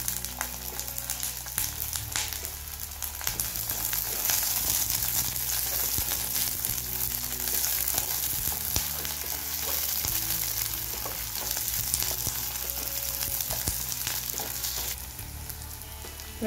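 Onions and curry leaves fry in a pan with a loud, steady sizzle close up, interrupted by occasional stirring scrapes and shifts in tone, with no talking.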